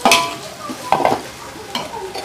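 Green chillies and tomatoes fry in a pan with soft sizzling, broken by a few sharp clatters of a spoon stirring against the metal, close and fairly quiet.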